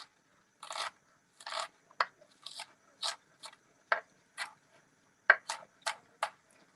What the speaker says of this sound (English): so just chop it up very finely because this is going to be the crust